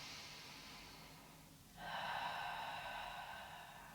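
Deep yoga breathing: a slow, soft exhale followed by a fuller, airy inhalation drawn through the nose, close and quiet with no talking.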